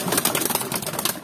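Young pigeon being hand-fed: a close, busy flurry of rapid fluttering and pecking sounds with soft squeaky begging noises, lasting just over a second.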